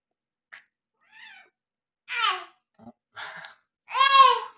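A cat meows several times, short high calls spaced out and rising in loudness, with a baby babbling and laughing alongside in a quiet room.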